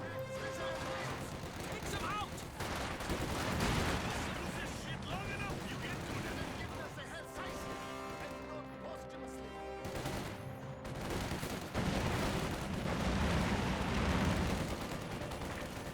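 MG42 machine gun fire in Company of Heroes 2, dense rapid bursts mixed with explosions and battle noise, running steadily under continuous commentary.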